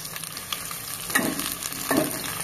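Oil heating in a pan, giving a continuous hissing sizzle with two brief louder bursts of spattering, close and steady with no talking.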